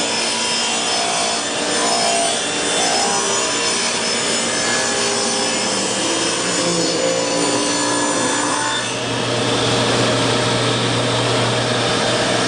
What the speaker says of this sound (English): cut on these edges and get this paint off the edges